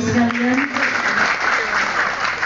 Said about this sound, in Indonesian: Tepuk tangan untuk Bapak dan Ibu sekalian.